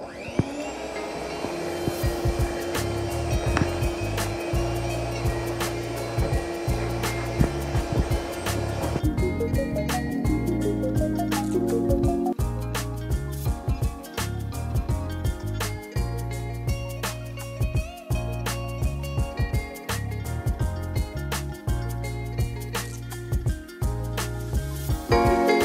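An electric kitchen mixer whirs steadily while cream mass and whipped cream are blended for an Oreo cheesecake, a loud continuous motor drone with a pitch shift partway through and frequent clicks and rattles from the beaters against the bowl.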